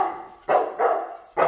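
A dog barks three times at close range, loud and sharp, with short gaps between the barks in a quiet setting.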